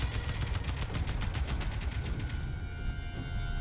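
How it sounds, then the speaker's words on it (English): Rapid bursts of space pirate gunfire strike a ship in the Space Engineers video game, a dense, fairly quiet rattle of shots that runs steadily and then thins out near the end. "The space pirate assailant's shooting the ship."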